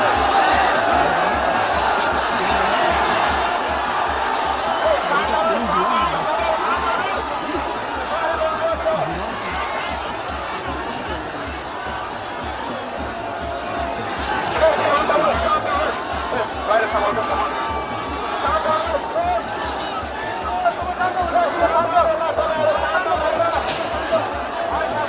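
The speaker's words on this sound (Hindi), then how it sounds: "ये देखिए बैरिकेड लगाया हुआ है पुलिस ने, और सामने आप देखिए कितनी भीड़ है प्रदर्शनकारियों की" A large crowd of protesters gathers at a police barricade during street protests in Nepal, giving off a continuous hubbub of overlapping voices and shouts at a moderate distance, with the noise swelling in places.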